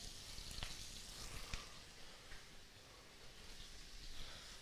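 Fat and blood from a rack of lamb burning in a hot pan of oil, giving a faint, steady sizzle and crackle with a few small pops and no talking.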